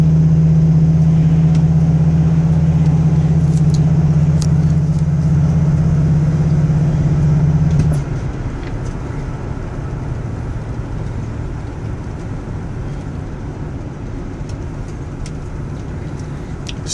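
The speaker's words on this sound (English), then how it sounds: "Vehicle rides really nice, handles well." Steady engine and road noise inside a 2002 Ford Excursion Limited while driving, a loud low drone that drops to a quieter rumble about halfway through and continues evenly.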